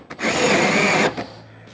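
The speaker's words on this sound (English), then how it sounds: "Now I just need to drill a little bit deeper in there for that little lip." A power drill bores deeper into a hole to cut a small lip while installing fan and air-conditioning ports, one loud close burst of whirring and grinding lasting about a second, then stopping.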